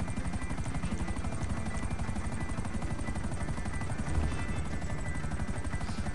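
A helicopter in GTA Online flies close by, its rotor chopping in a loud, steady, rapid rhythm that continues throughout without a break.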